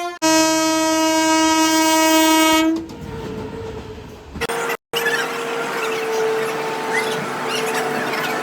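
A passenger train on the Panvel to Ratnagiri route sounds a long, loud horn blast, then rolls on with a steady rumble and clatter of wagons, a brief dropout interrupting partway.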